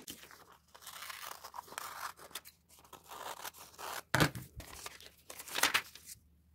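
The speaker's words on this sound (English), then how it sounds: "Now I just need to cut it out." Scissors snipping through a paper backpack pattern, with bursts of crisp cutting and rustling paper close by, pausing between strokes, with louder snips near the end.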